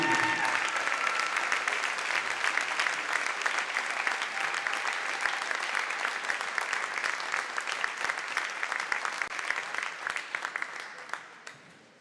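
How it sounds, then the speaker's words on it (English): Sustained, dense applause from a gym audience honoring Hall of Fame inductees at a high school boys basketball event, steady and loud for about ten seconds before tapering off at the end. "please have one big round of applause for all of our 2026 Hall of Fame inductees."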